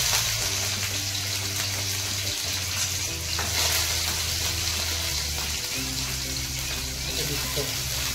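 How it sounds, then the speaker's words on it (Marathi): Chopped onion and green chili fry in a hot pan for vangyache bharit, a steady sizzling hiss running throughout at an even level, with a low humming tone underneath. "त्याच्यानंतर टाकूया आपण कांदा आणि मिरची."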